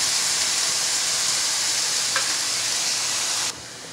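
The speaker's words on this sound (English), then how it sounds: "You want to saute your peppers and onions about 2 to 3 minutes" Peppers and onions sauté in a hot pan with a loud, even sizzle up close, a faint stirring scrape partway through, and the sound dropping off sharply just before the end.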